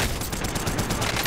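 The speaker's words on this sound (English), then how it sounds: "And I'm getting shot at already." Gunfire in the Call of Duty Warzone video game, a dense rapid burst of shots with crackling impacts, loud and continuous throughout.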